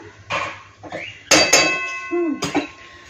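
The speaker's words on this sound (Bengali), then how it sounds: "হ্যাঁ সজনা ফুল রান্না করছি তো খুন্তিটা একটু নেড়েই নিলাম" A metal spatula stirs and scrapes drumstick flowers cooking in a pan, giving a few close, sharp clinks and knocks in separate bursts, with no one talking.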